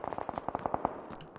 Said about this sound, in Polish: Strzały są obok